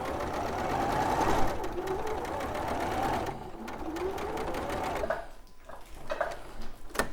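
Sewing machine stitching quilt half-square triangles, a loud close motor hum with rapid mechanical needle chatter that runs steadily, slows and pauses, then restarts in short bursts.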